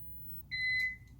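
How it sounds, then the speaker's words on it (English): A wheelchair docking lock inside a 2019 Toyota Sienna mobility van gives one clear electronic beep, a steady high tone lasting about half a second over low cabin hum. "We're going to go until it beeps."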